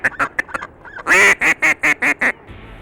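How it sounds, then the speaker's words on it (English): A duck call blown in short bursts, close and loud: a quick run of staccato quacks, then a longer blast followed by a steady series of evenly spaced quacks. "Something about the sound of a duck call all women hate."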